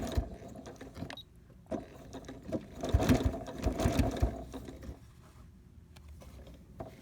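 A sewing machine back stitches through a thick cloth face mask at a 2.5 millimeter stitch length, running in quick mechanical bursts that stop and restart, close and alone.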